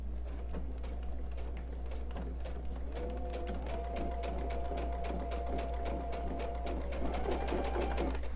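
A sewing machine runs steadily as it stitches a quilt star block triangle, a fast, even mechanical whir and needle clatter with a low motor hum throughout, close and continuous.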